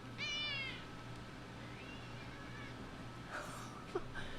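An indoor cat gives a clear rising meow near the start, followed by fainter meows and small sounds over a steady low hum in a quiet room.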